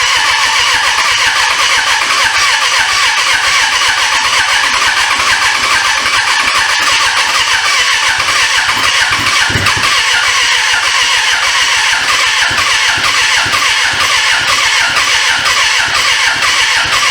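A Suzuki GSF600 Bandit motorcycle engine being cranked by its starter, loud and continuous, churning steadily and almost catching into a brief firing burst midway without fully starting.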